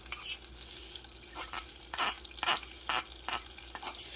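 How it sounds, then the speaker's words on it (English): Garlic frying in a pan gives a run of short sizzling, stirring bursts that come and go in an irregular rhythm, close and fairly loud, with no talking. "let me put this garlic in. You just want to let it get fragrant."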